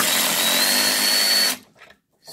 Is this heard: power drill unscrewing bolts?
yes